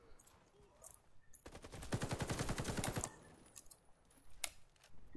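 A Type 97 machine gun in the shooter game Warface fires one long, fast, steady burst of about a second and a half, loud against quieter clicking and background game sound.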